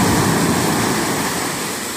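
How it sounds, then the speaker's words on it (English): Ocean waves at Shaw's Cove in Laguna Beach, a continuous broad wash of surf that fades slightly over a couple of seconds, alone without talk. "The waves aren't dangerous here."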